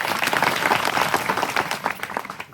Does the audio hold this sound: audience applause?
yes